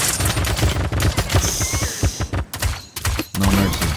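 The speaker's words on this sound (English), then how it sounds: "I'm gonna bring the pistol out" Rapid gunfire crackles in the fantasy battle royale game Realm Royale, with a pistol among the weapons, as dense bursts of close, loud shots come in quick succession with short pauses between them.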